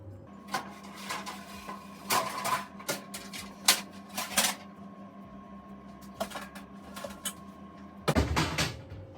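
A large metal baking tray is pulled from a kitchen cupboard, with a series of close knocks, clatters and sliding scrapes, ending in a louder rattling clank.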